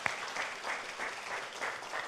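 Audience applause at a cryptocurrency event in Korea welcomes a CEO, a faint, distant patter of clapping with soft pulses and no talk over it.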